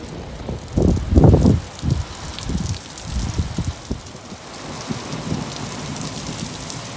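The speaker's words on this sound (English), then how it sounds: "it didn't rain much, but it rained just enough" Rain falling on a farm field during corn planting: a steady patter and hiss with deeper rumbling bursts near the start, close and fairly loud, heard without talk.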